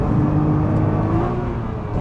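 A sports car, either a Nissan GT-R or a Jaguar F-type R coupe, accelerates hard out of a corner on a track, with a loud sustained engine drone and rising tonal whine heard from inside.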